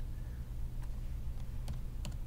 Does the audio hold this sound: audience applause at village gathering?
no